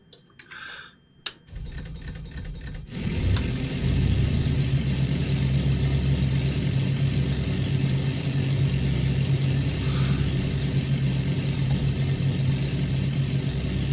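An Auster J1 aircraft engine in a flight simulator starts up after a few clicks and settles into a steady, droning low hum that carries on loud and unchanging.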